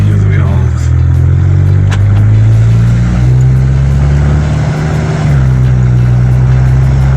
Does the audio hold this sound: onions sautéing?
no